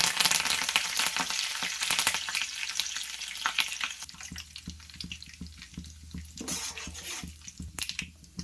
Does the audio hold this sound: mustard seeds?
yes